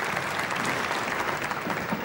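A crowd at a 10-pin bowling match applauds a strike with dense, steady clapping that fills the arena evenly throughout.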